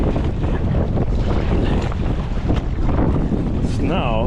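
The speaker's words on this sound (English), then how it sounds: "I'm not gonna compromise safety when it's this windy and you have these waves." Strong gusty wind roars across the microphone while sea kayaking in an Advanced Elements AirFusion inflatable kayak on rough water, with waves splashing underneath, loud and close throughout, and a voice briefly audible at the end.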